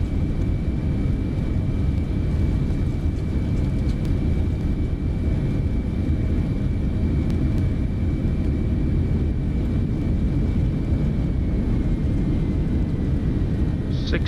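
Jumbo jet engines roar in reverse thrust after landing in the Microsoft Flight Simulator game, a steady, dense, loud rumble that holds unchanged from start to finish.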